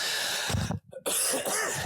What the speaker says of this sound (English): I apologize about the cough.